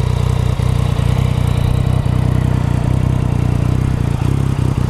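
A Yamaha MT-09 motorcycle engine idles close by with a loud, steady, throbbing low rumble and no talk.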